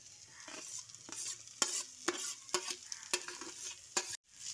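Rice is stirred through vegetables and capsicum in a pan, with repeated close scraping strokes of a spatula at an uneven rhythm over a faint sizzle.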